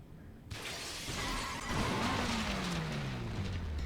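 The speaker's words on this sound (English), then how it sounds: "I hear the crash of glass and feel the impact rock my body." Glass shatters in a crash scene from the DRAMAtical Murder visual novel, a sudden loud burst of breaking that spreads into dense, sustained noise with a falling engine-like whine beneath it.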